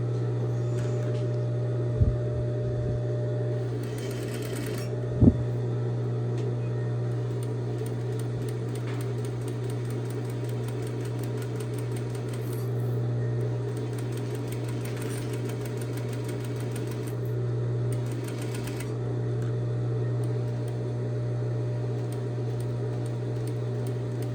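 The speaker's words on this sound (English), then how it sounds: "I'm going to line them up and sew them at a 1/2 inch again, so creating another straight seam" A sewing machine runs a straight half-inch seam, its steady motor hum and rapid needle pulse continuing evenly for the whole stretch, with a couple of brief clicks near the start and no talk.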